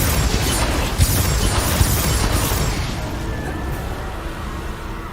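Fired in the Hogwarts Legacy video game, a Confringo spell explosion gives a loud, dense roar of crackling blast that holds steady and then slowly fades.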